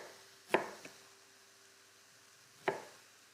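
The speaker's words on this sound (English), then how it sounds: "So we'll slice our ginger up." A kitchen knife slices through fresh ginger on a cutting board, making two crisp, distinct cuts about two seconds apart in an otherwise quiet room.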